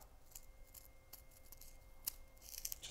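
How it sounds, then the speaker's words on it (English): Scissors cutting paper pieces for a papercraft sculpture in half: several quiet, crisp snips spaced irregularly over a faint room background, with a small cluster of sharper clicks near the end. "just take your scissors. You can literally cut these in half"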